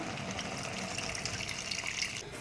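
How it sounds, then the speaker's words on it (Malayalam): Tamarind water pours steadily into a curry pot for a couple of seconds, a continuous close splashing gush with no voices. "പുളി ഒഴിക്കാം"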